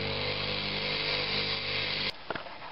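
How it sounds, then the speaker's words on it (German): A drill bit being ground flat on a bench grinder for a Porsche tank cap repair: a loud, steady whine for about two seconds, then it cuts off, leaving a few faint knocks and a quiet hum. "Für das Sackloch schleifen wir uns deshalb extra einen Bohrer zu."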